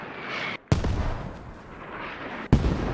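Two sharp, booming G3 rifle shots in a tactical military video game, loud and close and set apart by a couple of seconds, with rumbling reverb and noise filling the gap between them.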